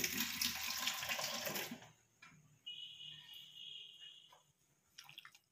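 Water runs in a short, strong pour for about two seconds as it goes into mixed flour for roti dough, then drops to faint trickles and small clinks with a thin high tone.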